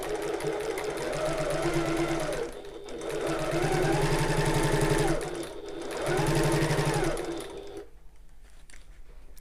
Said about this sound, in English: I'm sewing exactly the same as I did before